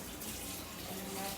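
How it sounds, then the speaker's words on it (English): Tap water runs steadily into cans being filled in a kitchen while cooking, a faint continuous splashing gush with no breaks over the short stretch. "I'm gonna get some water and I'm gonna fill up these cans"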